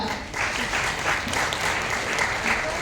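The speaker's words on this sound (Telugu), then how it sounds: "జాబ్ ఫ్రీడమ్ చెప్పిన వాళ్ళకి క్లాప్స్ కొట్టవచ్చు ఇక్కడ" A room full of people clapping at a Women's Day empowerment meeting, steady, even applause from a close crowd lasting a few seconds.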